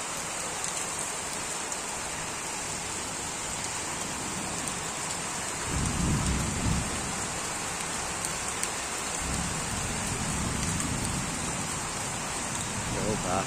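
Heavy downpour on a flooded street in Sylhet, a constant hiss of rain pounding water and surfaces, with a deeper rumble swelling midway and faint voices underneath.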